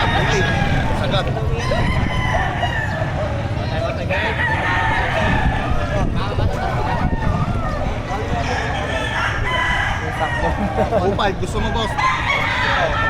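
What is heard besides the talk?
roosters crowing at a livestock auction market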